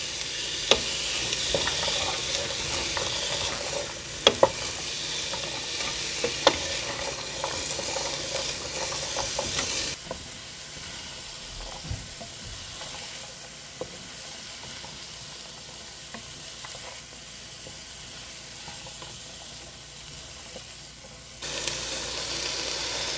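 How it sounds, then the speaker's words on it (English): Carrots and celery sauté in a hot pan with a steady sizzle and hiss, broken by occasional scraping stirs; the frying runs continuously for over twenty seconds, loud and close, with a quieter stretch in the middle. "I'm going to saute this for 4 minutes, 4 or 5 minutes, because I just want the carrots and the celery to start sweating a little bit"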